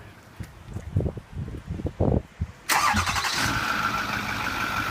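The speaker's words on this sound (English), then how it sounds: "First thing I'm going to do is remote start the truck." A Ford F350 diesel truck fires up by remote start after a few quiet shuffling sounds, then settles into a steady, loud idle that carries on to the end.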